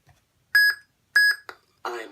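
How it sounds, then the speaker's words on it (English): A custom FX lightsaber hilt gives two short, bright electronic beeps about half a second apart when its auxiliary button is held, followed by a brief click and a burst of murmuring sound. "push and hold the auxiliary button and till it beeps, release"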